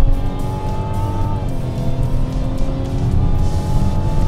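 The 3.3-litre straight-six turbo in a 2023 Mazda CX-90 prototype pulls hard under acceleration, a loud, steady engine roar with a rising tone and a brief shift dip partway through, heard from the cabin.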